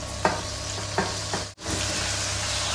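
Tomatoes, garlic and ginger sizzle steadily in a pan for a Punjabi vegetable kofta curry, with a few sharp stirring scrapes over the constant close frying hiss and a brief dip near the middle.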